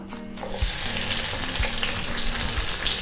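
Chopped onion and garlic sizzling as they fry in hot oil for a Chettinad dal dumpling curry, a steady crackling hiss with a few soft stirring knocks, close and continuous.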